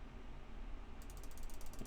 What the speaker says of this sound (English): You can all hear the printer clicking, right?